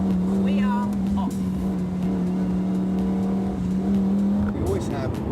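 Cars pull away from a port in France at the start of a European road rally, a steady engine drone with a sustained hum running under people talking nearby.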